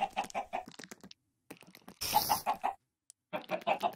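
Minecraft chickens cluck in quick bursts, close and clear, with short pauses and a brief rustling burst partway through.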